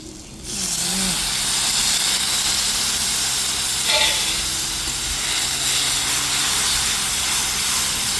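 Tomatoes drop into a hot pan for an egg dish and break into a loud, sustained sizzle and hiss that starts suddenly and stays steady and close, with faint talking in the background.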